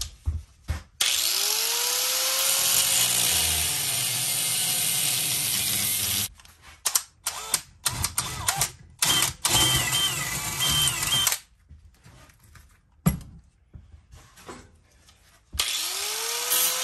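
Metal piece being cut with a power tool for a Duke 850 mod, a loud sustained whine over several seconds, then stop-start bursts and clatter, with gaps of near silence and a final short burst, no talk.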